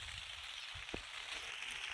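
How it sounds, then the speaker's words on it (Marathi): Rain falling outside during a village downpour, a steady broadband hiss with one brief knock in the middle, fairly faint and even, with no talking. "आणि इकडे बाहेर बघा पाणी चालू झालेलं आता."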